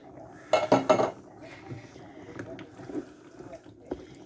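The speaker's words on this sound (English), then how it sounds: "Give that just a little stir." A utensil scrapes and clinks against a cooking pot of Italian-style stewed tomatoes, with a loud burst of stirring early on and lighter taps afterward, close by, with a voice talking at moments.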